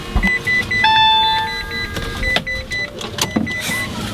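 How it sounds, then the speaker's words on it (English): An electric rental car's electronic chimes beep several times, short tonal pings and a longer steady tone over low vehicle hum, with clicks in between. "This car makes a lot of beeping noises."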